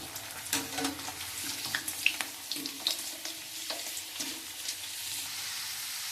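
Amla, Indian gooseberries, frying in a pan: a soft, steady sizzle with scattered light pops and scraping clicks from stirring, moderately close and free of talk.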